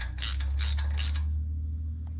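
Three quick bursts of wrench ratcheting while tightening a Vance & Hines VO2 air intake on a motorcycle, close and crisp over a steady low hum, then fading to quiet.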